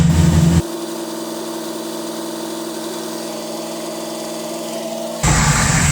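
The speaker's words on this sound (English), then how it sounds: "I noticed the motor's starting to tick a little bit" A GM pickup truck engine idles steadily with a faint tick, close and fairly loud, its even drone broken by louder bursts at the start and end.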